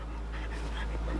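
A pet dog pants softly and steadily up close, a low breathy rhythm with faint whimpering hints and no talking.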